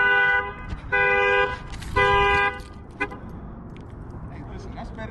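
A 2022 Dodge Charger Scat Pack Widebody's car alarm, set off by its motion sensor, blares in loud repeated horn-like bursts that then stop, with people talking nearby.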